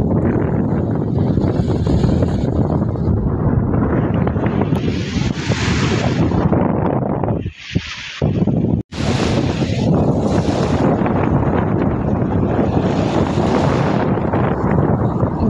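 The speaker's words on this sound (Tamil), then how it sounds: "மோஸ்ட்லி இங்கே இருக்கிற பீச்சில் வந்து அலை அதிகமாக இருக்காது." Strong wind buffets the microphone over rolling waves at a beach in Dubai, loud and continuous, with a brief drop near the middle.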